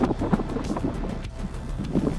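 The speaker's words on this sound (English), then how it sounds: "It's a little windy though." Wind buffets the microphone in rough gusts on the summit of Otis Peak, Rocky Mountain National Park, a steady blustery roar with uneven thumps and no voices.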